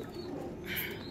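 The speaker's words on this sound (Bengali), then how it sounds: "দেখুন পায়রাগুলো" Racer pigeons coo in a soft, low murmur through the brief moment, with a slightly brighter swell near the end.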